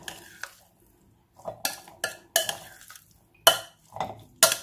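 Egg mixture stirred in a bowl for a roasted potato dish, a utensil clinking and scraping against the bowl in several short bursts with pauses between, close and fairly quiet.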